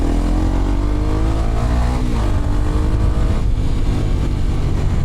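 A Kawasaki Ninja 250 SL, a 249 cc DOHC single-cylinder motorcycle, runs loud and close with a continuous engine drone that rises and falls slightly in pitch.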